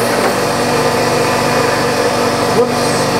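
A machine tool runs steadily while drilling with T90 center drills into a workpiece for a spool valve engine, producing a loud continuous motor whine and hum with a faint brief knock near the end.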